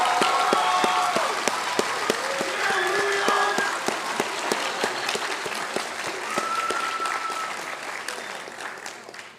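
Audience at a nursing and health sciences graduation ceremony applauds faculty and staff, a sustained wash of dense clapping from a large crowd with scattered whoops, steady for several seconds and slowly easing off.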